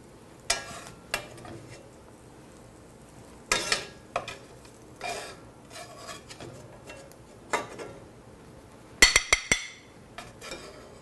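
Kale sautéing in olive oil in a pan, soft intermittent sizzles and stirring scrapes with a few clinks of a utensil against the pan, close, with quiet gaps between bursts.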